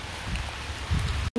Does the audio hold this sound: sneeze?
no